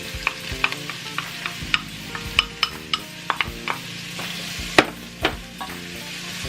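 Garlic, about five cloves, and onions fry in a pan with a steady sizzle, while a spoon scrapes and clacks against the pan in quick, irregular strokes.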